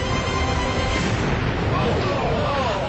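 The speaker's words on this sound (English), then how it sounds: "an explosion rocks the Cape" A loud, dense roar of a Delta II rocket exploding at Cape Canaveral seconds after launch fills the clip, a sustained rumbling blast with crackling texture throughout.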